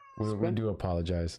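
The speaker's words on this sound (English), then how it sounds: "Sorry, excuse my cat." A pet cat lets out two drawn-out meows close by during a podcast recording, and a person speaks briefly alongside them.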